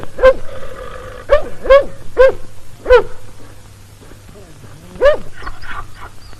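A dog in a 1981 Georgian film scene gives a series of sharp, close barks in quick bursts, then a pause and another bark followed by softer yelps, over a low steady hum.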